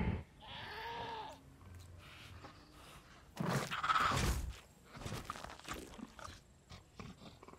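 Several goat-like bleats, wavering and nasal, rise over a busy Jurassic World game soundscape with thumps and rustles; no one speaks.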